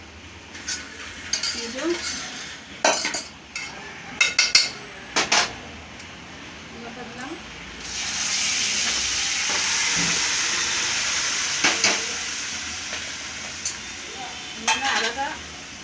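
Cloves, cumin, curry leaves and dried chillies hit hot oil for a tempering, giving a steady sizzling hiss after a run of clattering utensil knocks, with brief speech over it.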